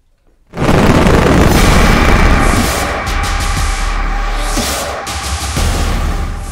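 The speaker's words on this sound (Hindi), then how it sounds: "बम की मदद से बिल्डिंग को डिमोलिश किया गया।" After a moment of quiet, a massive blast from explosives demolishing a building erupts and rolls into a long, thunderous rumble of collapsing debris that sustains to the end.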